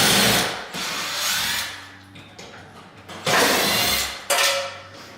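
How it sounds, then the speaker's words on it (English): A cordless drill whirs in short, loud bursts as it backs screws out of a ceiling fan motor during installation. The runs are separated by brief pauses with faint clinks, and no one talks. "So again, you can use a cordless or a screwdriver."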